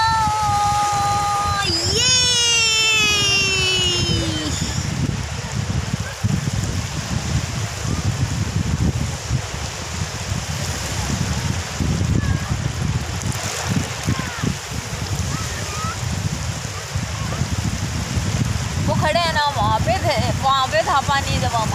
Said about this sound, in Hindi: चलिए आपको लहरों को पास से दिखाते हैं फिर घर जाते हैं।